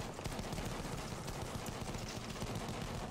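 Rapid machine-gun fire from teammates crammed inside a tank in Battlefield 1 rattles continuously, a dense, faint stream of shots with no talk.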